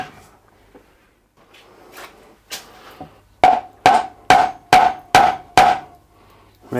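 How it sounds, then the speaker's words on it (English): Soft hammer tapping on a J.A.P. water pump during a strip-down: a few light knocks, then six loud, evenly spaced sharp taps close by, with no talk. "An exploratory tap, I think, with a soft hammer there"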